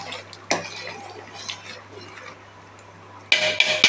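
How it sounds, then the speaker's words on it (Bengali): Thin chicken khichuri is stirred in a pot: a spoon clanks against the metal once early, then a quiet stretch with soft scrapes and a low hum, and a cluster of louder clatters at the end. "একটু নাড়াচাড়া দিয়ে দিলাম, ভালো আসছে। নাড়াচাড়া করে দিলাম।"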